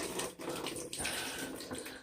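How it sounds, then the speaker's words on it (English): Water poured from a bucket into an old-style toilet bowl, a continuous gushing splash heard up close at low volume, with no talk over it. "You're gonna conveniently dump your bucket in the toilet"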